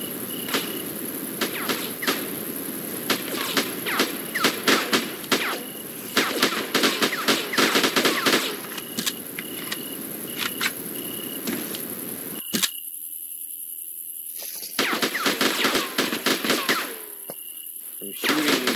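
AK rifles firing in a video game, with bursts of rapid synthetic gunfire broken by pauses, a steady high electronic tone running throughout, and voices talking over part of it.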